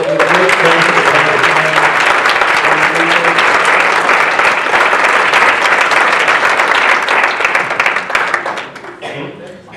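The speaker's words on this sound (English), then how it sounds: "Please give him a round of applause." An audience applauds to welcome ventriloquist Ronn Lucas onstage, a loud, dense wall of clapping that holds steady for most of the stretch before thinning out near the end, with voices faintly beneath it.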